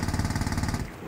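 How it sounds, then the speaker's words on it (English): A jackhammer in the video game Wobbly Life pounds in a steady rapid rhythm, loud and close, before cutting out near the end. "I've got a jackhammer. Not afraid to use it."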